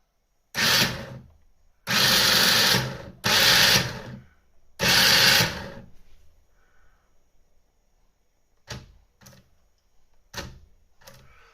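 A 1:14-scale 2.4 GHz 7.4 V 4WD RC touring car sits on a coffee mug while its electric motor whirs in four loud bursts of about a second each, then several short faint blips.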